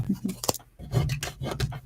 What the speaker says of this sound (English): We're going to start shuffling. So let's take the cards up